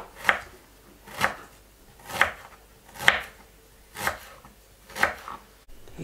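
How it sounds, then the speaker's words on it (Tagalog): A knife slices through celery on a cutting board in six evenly spaced, crisp chops, about one per second, close and clear with no talking. "Hiwa tayo ng celery."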